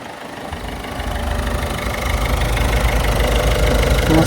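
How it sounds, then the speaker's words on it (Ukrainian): A Peugeot 5008 engine rumbles close by, its low drone gradually rising and growing louder as the throttle is pressed. "Зараз ще погазуємо."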